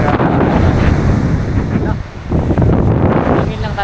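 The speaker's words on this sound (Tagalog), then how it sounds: "Mahangin lang talaga." Strong wind gusts buffet the microphone on a beach during a fishing outing, a loud roaring rush with a brief lull midway, mixed with surf noise.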